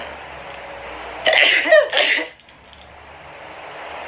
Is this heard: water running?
no